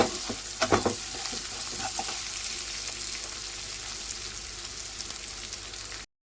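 Chopped onions fry in a pan for baingan masala, a close, continuous sizzle with a few stirring scrapes near the start, no talking.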